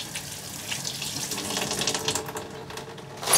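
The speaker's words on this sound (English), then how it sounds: "now I'm going to wash my hands really, really quickly" Tap water runs steadily into a kitchen sink during a quick hand wash, a continuous close hiss and splash with slight swells, ending in a brief louder gush.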